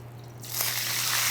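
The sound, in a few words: grated potato sizzling in a hot smoking pan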